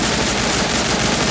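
Loud, continuous rapid-fire gunfire from the video game Tiny Troopers, a dense rattling burst with no talking over it.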